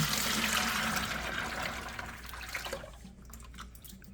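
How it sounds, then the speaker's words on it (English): Plasti Dip pearl top coat pours steadily into a 5-gallon bucket with a continuous rushing liquid sound. The flow tapers off toward the end, leaving faint trickles and drips. "I'm going to be adding 2 gallons of dip pearl top coat and 100 grams of the pearl that I custom made."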